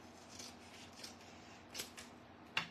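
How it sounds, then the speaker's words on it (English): Scissors cut paper for a scrapbooking layout, giving soft, faint snips and rubbing sounds with a sharper closing snip near the end, no voices. "just use your scissors from the center"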